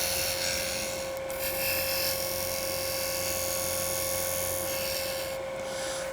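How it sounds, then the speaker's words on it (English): Wood spinning on a lathe while a skew chisel laid flat on the tool rest lightly scrapes a textured band, a steady close hiss with a constant high whine and no pauses. "turned the speed of the lathe up, and now with my skew laying flat on the tool rest, I can just lightly scrape this area here"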